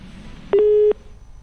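A single steady electronic phone-line tone, heard alone, follows a disconnected call for just under half a second, loud and clean against a quiet background.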